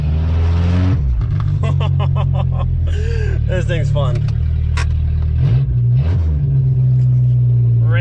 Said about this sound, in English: we should get a quick burnout.